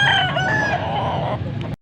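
Young gamecocks, stags about eight months old, crow at a rooster market in Pampanga. One loud, close crow runs for nearly two seconds and then cuts off abruptly.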